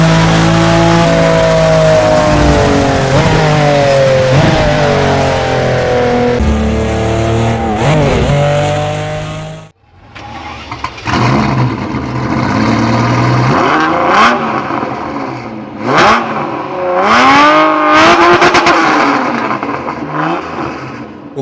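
Ferrari Testarossa's 4.9-litre V12 revs loud and close, a sustained, rising and falling engine howl that breaks off sharply and then returns as rougher bursts of throttle, with no talking.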